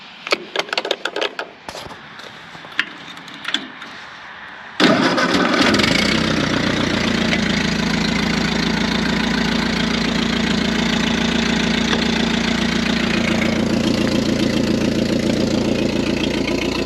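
A Ford 8N tractor engine cranks with a few sharp clicks and bursts, catches loudly near five seconds, then settles into a steady, close, rumbling idle that runs on alone.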